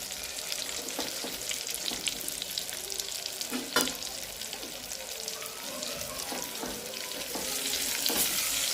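Masala is stirred and fried in a pan for a Punjabi-style whole pointed gourd curry, giving a continuous soft sizzle with scattered stirring clinks and scrapes throughout.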